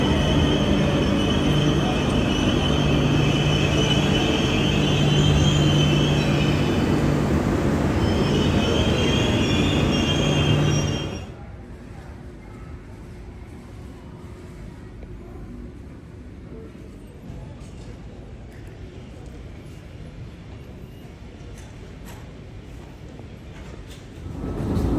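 Rumble of a rail carriage in motion on a train ride toward Barcelona, loud and steady with faint wheel squeal for about eleven seconds, then dropping abruptly to a quiet, muffled hum.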